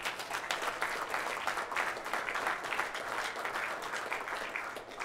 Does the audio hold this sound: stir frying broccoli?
no